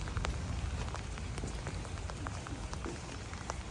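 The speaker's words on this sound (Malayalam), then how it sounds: "ഓ നല്ല ഇടിവിട്ടും മഴയും" Steady rain in Amsterdam patters on a surface, with scattered sharper drops standing out over a constant wash of noise; no voices.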